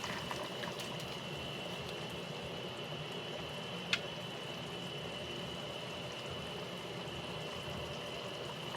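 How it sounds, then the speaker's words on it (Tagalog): A steady, low bubbling roar of water boiling in a pot while cooking chopsuey, constant throughout with a single faint clink partway. "kumukulo na"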